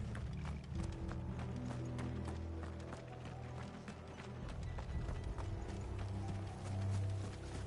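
Horses' hooves clip-clop in a steady running rhythm in Final Fantasy XVI, with a low rumbling game score underneath and an occasional whinny, no talking.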